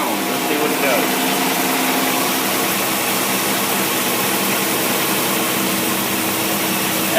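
A car engine fitted with an Edelbrock 600 cfm carburetor runs at about 1200 RPM: a loud, steady, continuous mechanical roar with a hum throughout, close up and unbroken for over seven seconds.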